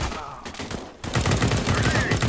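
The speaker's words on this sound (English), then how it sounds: "I heard gunfire" Rapid automatic gunfire in Counter-Strike: Global Offensive, a sparse burst followed by loud, dense sustained firing close up, with a faint voice underneath.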